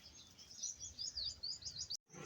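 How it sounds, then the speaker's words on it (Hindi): A pigeon chick stuck hatching from its egg chirps in rapid, high, thin peeps, close and fairly faint, ending in a brief break. "कबूतर का बच्चा जो है ना अंडे में फंसा हुआ था"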